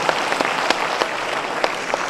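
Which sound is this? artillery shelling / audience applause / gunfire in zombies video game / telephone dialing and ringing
audience applause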